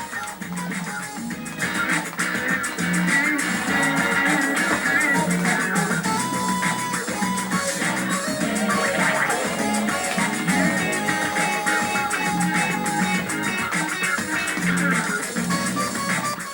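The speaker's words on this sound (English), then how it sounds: "See, that's the sound of a good guitar." Guitar-driven music from the video game Gitaroo Man plays loud and continuous, a dense band mix with no pauses.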